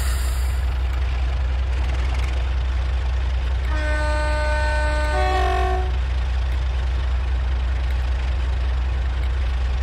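A train engine named Dave roars away, a steady low rumble running throughout, with a two-note horn blast sounding for about two seconds in the middle.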